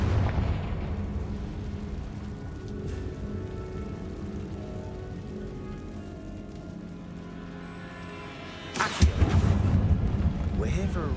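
The Confringo fire blast spell in Hogwarts Legacy goes off as a sudden, loud burst near the end, after a long stretch of low, rumbling ambient game sound.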